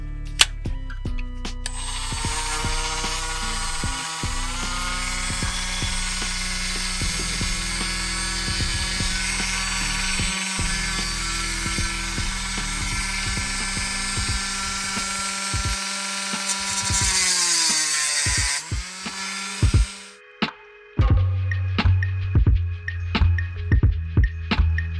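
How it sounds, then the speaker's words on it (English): Battery-powered Dremel rotary tool grinding through rough opal, a loud steady high whine for about twenty seconds that shifts pitch under load, then cuts off into a few short bursts and clicks. "So I'm using this battery powered Dremel."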